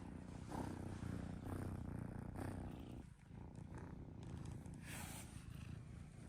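A pet cat purrs close by in a steady continuous rumble, the low churning texture running nearly unbroken for several seconds with one short dip midway.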